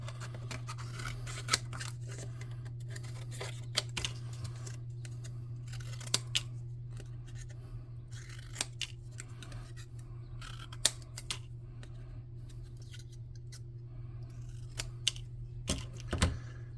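Scissors snip through cardstock in quiet, crisp clicks, scattered irregularly over a low steady hum, with a louder cluster of cuts near the end.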